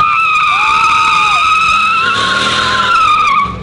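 A car burnout sends a continuous high tire squeal over engine noise, loud and close, holding for about three and a half seconds before cutting off abruptly.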